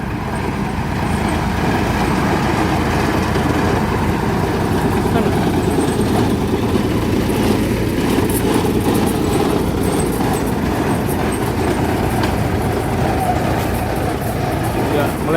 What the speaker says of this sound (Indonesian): Lokomotif nomor 2 Kyosan Kogyo melintas